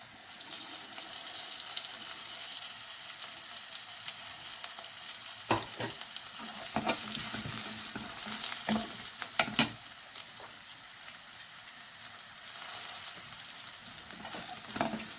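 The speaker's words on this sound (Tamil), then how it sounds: "கறிவேப்பிலையும் போட்டு நான் நல்லா வதக்குறேன்." Curry leaves sautéed in a pan for crab curry, a soft continuous sizzle with a cluster of spatula stirs in the middle, fairly quiet and close, with no talking.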